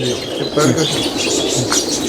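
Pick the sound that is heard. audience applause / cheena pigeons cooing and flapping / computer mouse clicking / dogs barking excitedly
cheena pigeons cooing and flapping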